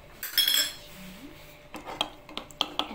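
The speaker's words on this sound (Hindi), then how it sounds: "मैं 1 टेबल स्पून डाल रही हूँ शुगर इसमें" A tablespoon scrapes and clinks against a cup while sugar goes into milk coffee, a few quick metallic taps and clatters, close and fairly quiet, with no talking.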